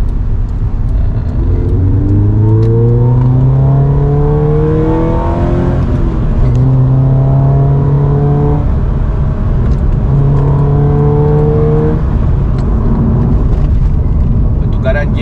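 A 2000cc Toyota GT-86 with the Aimgain package accelerates hard while driving, its engine climbing in repeated revving sweeps between gear changes, loud and close inside the cabin with someone talking over it.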